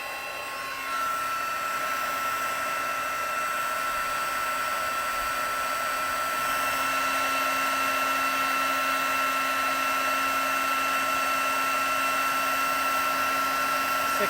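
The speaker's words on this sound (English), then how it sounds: "I'm just going to heat up the heat gun" A hot-air heat gun roars continuously at close range, a steady whooshing drone with a high tonal whine, played over foil to melt it into bubbling black ice; no talking.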